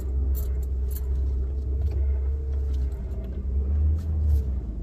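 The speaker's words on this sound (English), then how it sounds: "I'm now in first gear. And let's just hit it." A car climbing a hill in first gear gives a steady, close, low engine rumble that swells slightly as it pulls, with faint rattles and clicks on top and no talking.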